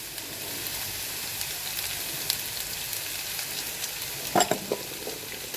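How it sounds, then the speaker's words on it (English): Chopped onion sautéing in a hot pan, a steady broad sizzle close to the microphone with a few brief stirring clatters near the end, no talking. "what I'm going to do is pop in my onion"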